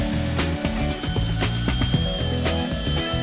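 FEIN MultiMaster oscillating power tool sanding with a backing pad and extractor hood, a steady dense buzzing whir with rapid rattling, close and loud, running continuously without speech.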